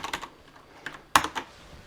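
Keys clack on a new Amiga-logo keyboard made by Simulant, a few scattered presses with one sharper, louder strike near the middle, close and fairly quiet against a faint background.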